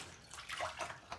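Clean water from a shop vac bucket pours onto a car part on a VW Beetle turbo EFI project, a faint, hissy, splashing wash lasting about a second.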